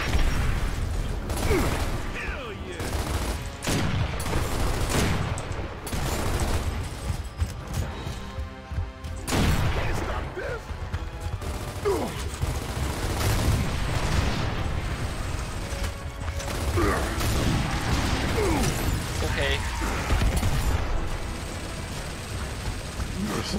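Heavy mechanical gunfire and crashing impacts from a turret in the video game Gears of War, loud bursts and booms layered with clanking, a dense chaotic battle soundscape with brief pauses.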